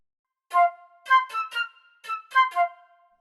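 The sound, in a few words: dry SWAM flute virtual instrument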